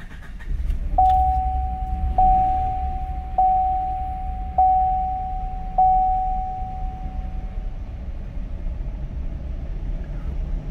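A car engine with active fuel management idles roughly after nearly suffering a major failure, a steady low rumble throughout, punctuated by five evenly spaced chime tones near the start.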